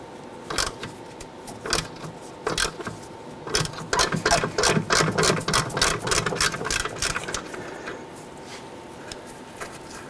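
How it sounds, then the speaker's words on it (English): Ratchet or wrench working the center nut off a rear upper control arm on a 1999-2004 Jeep Grand Cherokee, irregular metallic clicks that quicken into a dense rattling run before trailing off, close up. "I'm going to go ahead and continue to remove that center nut."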